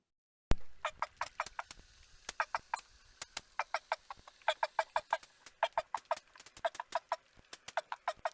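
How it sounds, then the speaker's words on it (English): Rapid bursts of short, bird-like quacking clicks from a dolphin's social quack call, repeated in quick clusters throughout, fairly faint with no talk. "So you can see why it's called a quack, but it very much sounds much more like a bird, but that is actually a dolphin"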